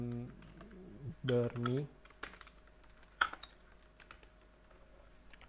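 Typing on a computer keyboard while writing HTML text for a website, soft scattered key clicks running quietly beneath a man's speech, with one sharper click standing out.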